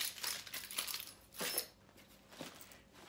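Keys jingle and clink in a few quick bursts as they come out of a bag, light metallic rattles separated by short pauses, fairly quiet and close.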